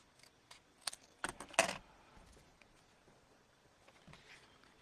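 Scissors snip freehand through a piece of card in a handful of quick, close cuts, the loudest cluster coming near the middle before it trails off into quiet handling noises.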